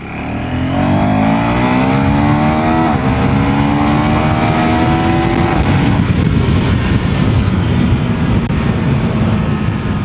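A 2024 KTM Duke 390 motorcycle accelerates in second gear. Its engine note climbs steadily in pitch, drops sharply at a shift, then climbs again into a loud, rough, sustained drone heard up close with no talking.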